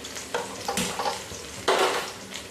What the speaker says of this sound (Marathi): तेल टाकलं लसूण ठेचून घेतली टाकायची लसूण लाल करून घ्यायचे